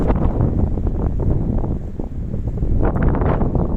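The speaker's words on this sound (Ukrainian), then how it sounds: "який вітер вітрюганіще" Strong wind from a Canadian blizzard buffets the microphone in a steady, roaring rush with low rumbling gusts throughout, no other sounds standing out.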